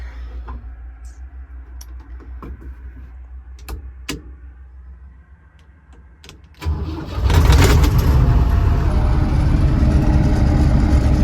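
A Volvo 1130 combine harvester engine cranks over with clicking and whirring, catches after a few seconds, and settles into a loud, steady, close-up rumble, with no talk.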